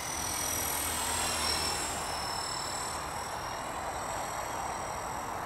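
Steady high-pitched buzzing whine from a very small helicopter's tail rotor, continuous and fairly even over a broad noisy wash, with no talk.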